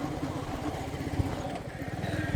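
A new motorcycle on its first long ride from the showroom, its engine giving a steady, close putter with rhythmic low pulses and some rattle throughout, under wind and light background noise.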